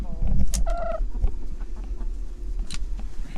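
Hens cluck in a hoop coop, a few short clucks and squawky calls close by, with people talking faintly in the background.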